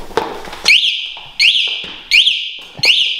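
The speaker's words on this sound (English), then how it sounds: "Then the alarm is gonna go off." Electric Bike Company Model R anti-theft alarm sounds in four loud, shrill electronic bursts, each a rising sweeping wail that repeats at roughly even intervals after a brief tap.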